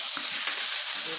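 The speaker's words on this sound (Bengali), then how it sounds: "দেবো 1 চামচের মতো চিনি, ভালো করে এবার মিশিয়ে নেব।" Aloo dum being stirred with a spoonful of sugar in a hot frying pan, a close, steady sizzle with brief scraping strokes over about a second, no talking.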